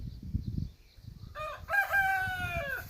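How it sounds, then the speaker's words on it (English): A rooster on a homestead crows once, a clear drawn-out cock-a-doodle-doo rising over low background rumble, fairly close and moderately loud. "That's a rooster."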